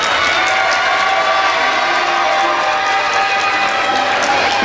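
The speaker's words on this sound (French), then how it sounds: "Applaudissements pour la candidate numéro 1." An audience at a Miss Oise 2021 beauty pageant applauds a candidate, dense steady clapping and cheering from a large crowd filling the room evenly.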